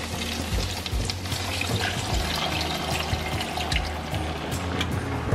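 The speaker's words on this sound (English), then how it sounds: "now he's pouring the liquid mixture into it so they can just kind of cook in it now" Liquid Rice-A-Roni mixture poured into a dish of meatballs, a steady splashing trickle with faint sizzling, close and continuous without talking.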